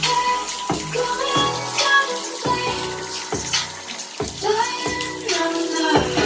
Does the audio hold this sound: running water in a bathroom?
yes